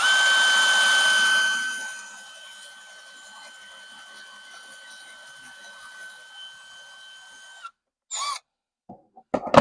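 A power drill boring pilot holes whirs loudly for a couple of seconds, then keeps a steady high whine at lower volume before stopping, followed by a few clunks.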